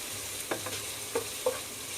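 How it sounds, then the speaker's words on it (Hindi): Fenugreek seeds roasting with onion in ghee give a soft, continuous sizzle, with a few faint stirring scrapes of a spoon in the pan. "इसको मेथी को अच्छा भून के लेने का घी के अंदर, कांदे के अंदर, घी के अंदर।"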